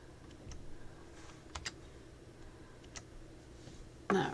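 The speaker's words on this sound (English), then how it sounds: "we just type in" Four letters typed on a computer keyboard, faint scattered key clicks spaced unevenly over a quiet room, ending with a louder clack.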